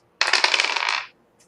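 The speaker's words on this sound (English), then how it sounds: "Roll me even or odd, Travis." Dice rolled during a tabletop role-playing livestream: a single bright clattering tumble lasting about a second, close and fairly loud, ending abruptly.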